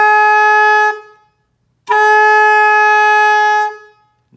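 Two loud, sustained saxophone notes blown with a strong push of air, each held for around two seconds with a short silent gap between them, played solo and close up.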